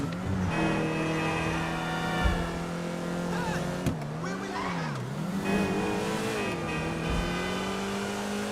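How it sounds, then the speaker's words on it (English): A sports car's engine revs and drones in GTA Online, a steady loud tone that dips and climbs through gear changes, with brief tire squeals and skids breaking in along the way. "I'm digging this engine sound that this car has."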